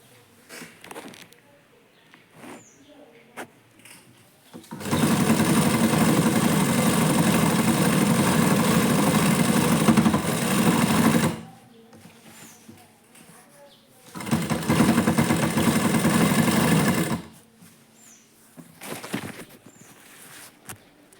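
A sewing machine stitches a churidar in two long steady runs of whirring motor noise, separated by quiet pauses filled with faint handling sounds and light movement.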